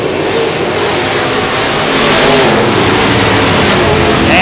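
IMCA modified race cars roar back to speed after a restart at Skyline Raceway, a loud, dense wall of engine noise that builds slightly as the pack accelerates, with no talking.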